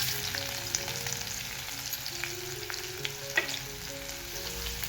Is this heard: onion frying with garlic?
yes